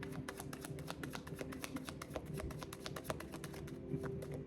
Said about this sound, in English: I'm gonna shuffle one at a time